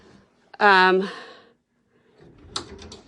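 A closet door in a house squeaks as it swings: a single loud, drawn-out creak lasting about half a second, followed after a pause by a soft shuffle and a brief clatter.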